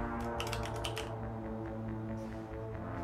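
Keyboard typing while playing Mass Effect Legendary Edition, a burst of quick clicky keystrokes in the first second over steady game music and ambience, then mostly music.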